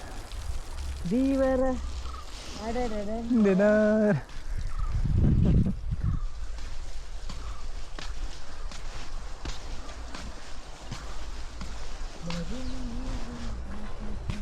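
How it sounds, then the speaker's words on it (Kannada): Steady rushing water of a waterfall at Kudremukh, Karnataka, roars in the background throughout, while voices speak over it and footsteps shuffle nearby. "ಓ, ಇದು ಫಾಲ್ಸು."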